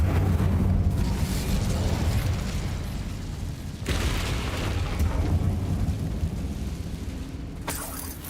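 Incendio fire spell cast in Hogwarts Legacy inside a closed mine, a loud sustained roaring blast of flame with rumbling bursts that surge again midway and near the end, with no talking.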